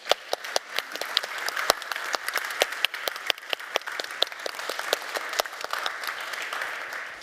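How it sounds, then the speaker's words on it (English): An audience at the Codegarden 2022 conference gives steady, dense applause, many hands clapping in a continuous patter with a few sharper, nearer claps standing out. "that's a big round of applause for you guys for making it happen"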